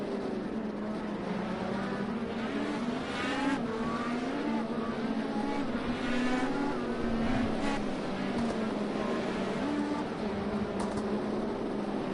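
IndyCar race car engines from the Project Cars 2 video game on a formation lap, a steady droning engine hum with wavering pitch as the cars cruise, continuous throughout.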